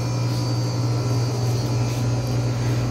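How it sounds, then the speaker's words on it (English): A frozen food freezer in a Dollar Tree store gives off a loud, steady low hum with a broad airy whoosh on top, constant and close throughout, with no speech. "that noise is this frozen food freezer"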